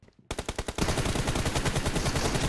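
Rapid automatic gunfire in PUBG Mobile during a team deathmatch, a few separate bursts followed by a dense, continuous loud volley of shots with no talking.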